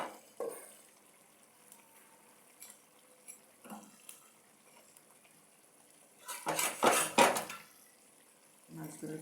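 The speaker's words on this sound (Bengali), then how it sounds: "এখন আগে থেকে মাছ ভাজাটা আমি এখন এটার মধ্যে দিয়ে দেব" Fried small fish are added to a simmering curry in a pan, with scattered utensil clinks and scrapes, then a louder burst of bubbling sizzle mid-clip before a brief final clatter.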